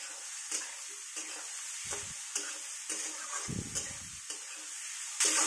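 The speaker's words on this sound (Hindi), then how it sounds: "मसाले अच्छे से भुनने के बाद इसको भी डालकर साथ में भुनेंगे" Spices sizzle and fry in a pan, a soft steady crackle broken by repeated stirring scrapes that come at an uneven rhythm. The sound is quiet and close, with no talking.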